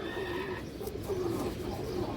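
A restless pigeon with a boot-shaped beak and bright red eyes coos in low, repeated phrases close by, its soft warbling calls steady across the moment with no talking.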